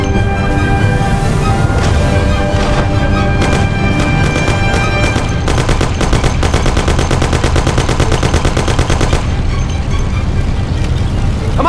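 Bursts of gunfire in the Mafia video game crackle loudly, with rapid machine-gun volleys running through the middle stretch. Engine rumble sits underneath the shooting.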